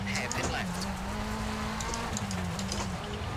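Hyundai i20N Rally1 engine in the racing game EA WRC at Rally Chile, revving and shifting loudly with pitch rising and dropping through gear changes, and gravel crunching beneath, all under steady talk.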